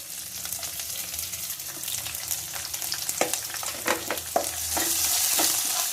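Chopped onion hitting a hot pan for broccoli curry sizzles steadily, with a few sharp clinks of a spoon stirring against the pan and a faint running-water hiss behind.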